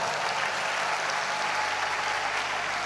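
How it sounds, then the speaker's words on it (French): Church congregation clapping together during a French thanksgiving service, a steady dense wash of applause filling the whole stretch without a break. "Can you clap?"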